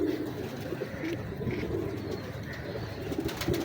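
A pure France-breed pigeon coos in low, throaty repeated calls at close range, with faint rustling and background noise around it.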